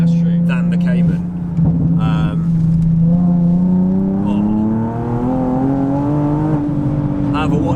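Nissan 370Z Nismo sports car with manual gearbox, a loud engine hum close by whose pitch climbs steadily as it accelerates, with people talking over it now and then.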